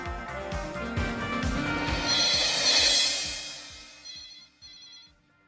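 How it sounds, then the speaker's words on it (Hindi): A telephone rings while a call is placed in a Bollywood action film scene, a bright repeating tone over a busy background score of beats and strings that fades out near the end. "फोन लगा, मुझे बात करनी है।"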